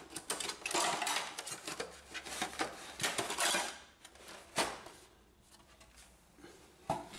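Plastic clicks, scrapes and rattles as the cover comes off an Epson WF-2630 series printer during disassembly, irregular close handling noises with brief sharp snaps.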